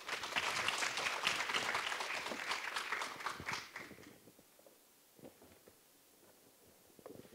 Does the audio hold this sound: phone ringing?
no